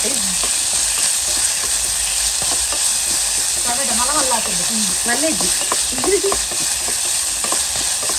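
Watermelon rind fries in a pan for a stir-fry with a steady, loud sizzle throughout, while a voice talks briefly underneath.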